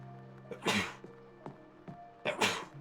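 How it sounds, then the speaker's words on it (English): Two sharp, close sneezes about two seconds apart, each a breathy burst, with small clicks and faint sounds in between. "Okay, sneeze."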